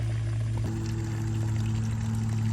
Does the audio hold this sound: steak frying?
no